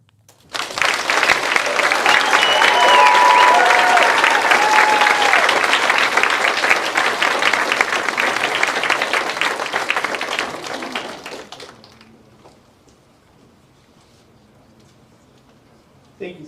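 A large audience at a student speech showcase breaks into loud, sustained applause that holds strong for about ten seconds before tapering off into near silence.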